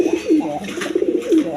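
A large Indian Bombay pigeon coos up close in quick, throaty rolling phrases, loud and clear with a few brief breaks, no speech heard.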